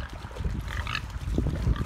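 Free-range pigs grunt and snuffle close by, giving a series of irregular low grunts and rooting noises that grow busier toward the end.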